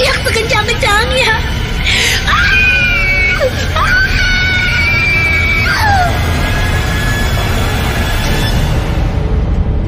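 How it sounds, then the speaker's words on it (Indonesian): A woman lets out loud, drawn-out screams in a horror story, several rising and sliding wails over a constant rumbling background, fading toward the end. "Aku pun berteriak sekencang-kencangnya."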